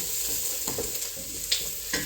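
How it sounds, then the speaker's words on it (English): Onions browning in a pot for chicken stew give a low, steady sizzle, with a few soft stirring scrapes and clinks over it. "So I think my onions are nicely browning"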